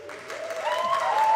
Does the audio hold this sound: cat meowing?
no